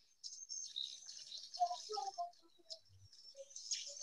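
Several small birds chirping and tweeting near a swiftlet building, quick high twitters and short piping calls overlapping softly in a quiet space.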